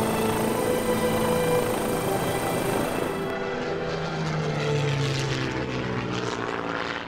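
A propeller-driven bomber aircraft drones overhead, its engine a loud, continuous hum with a steady pitch that holds for the whole stretch, with no voices over it.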